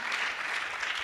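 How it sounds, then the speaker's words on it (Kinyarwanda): A church congregation applauds, a dense, steady wash of many hands clapping at once that fills the whole short stretch at an even level. "Reka dukomere Imana amashyi."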